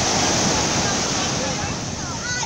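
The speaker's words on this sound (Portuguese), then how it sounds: "Tá muito violento o mar." Rough, violent sea surf at a black-sand beach in central Guarapari, Brazil, a steady loud broadband roar of breaking waves with wind buffeting the microphone throughout.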